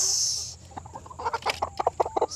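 Chickens cluck in a quick series of short, close calls after a brief hiss, the clucks coming in an uneven, rapid rhythm.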